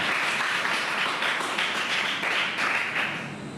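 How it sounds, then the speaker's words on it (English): An audience claps for student participants at a school debate competition, a fairly soft, sustained patter of many hands heard from a distance, steady throughout and fading slightly at the end. "A very big clap for all those participants."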